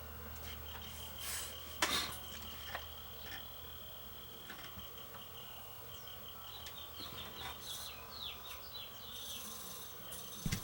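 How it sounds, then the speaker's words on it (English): Faint bird chirps and trills scattered over a steady outdoor hum, with insects buzzing and an occasional rustle nearby. "Just the birds making all that noise."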